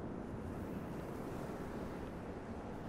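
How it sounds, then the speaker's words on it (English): Wind blows through the open landscape of the video game Journey, a continuous breathy rush that is fairly quiet and stays even throughout, with no voices and no other sounds standing out. "Oh, it's getting kind of windy."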